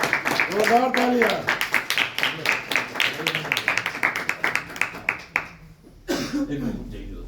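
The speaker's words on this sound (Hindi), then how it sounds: "जोरदार तालियां।" Audience clapping at a Hindi poetry gathering (kavi sammelan), a sustained burst of many hands that fades and then briefly picks up again, with voices and coughs mixed in.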